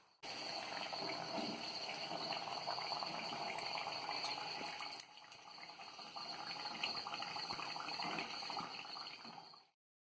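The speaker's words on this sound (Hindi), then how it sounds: "इसे हमने हल्का गोल्डन ब्राउन होने तक सेका है। अब हम इसे निकाल लेंगे, और इसे हमने मीडियम फ्लेम पे ही सेका है।" Gujiya frying over a medium flame, giving a steady, dense hiss of sizzling oil that runs almost unbroken for about nine seconds with a short dip midway, then cuts off abruptly.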